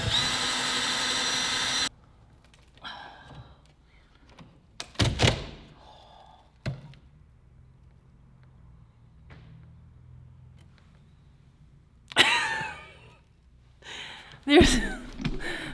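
A power drill whirs loudly for about two seconds, then quiet stretches with scattered clunks, thuds, and brief bursts of handling noise.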